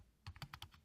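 Quick, light keystrokes tap on a computer keyboard, about seven clicks in under a second, close and soft with no voices.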